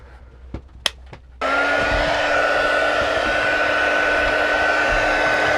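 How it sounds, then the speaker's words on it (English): After a few faint clicks, a hot air gun switches on abruptly and blows a loud, steady whooshing roar with a constant whine, heating solder paste for QFN reflow on a circuit board, sustained without a break to the end. "blows hot air out the business end"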